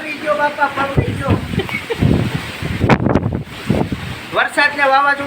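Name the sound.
storm wind and rain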